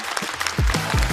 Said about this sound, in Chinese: 来，掌声送给张俊。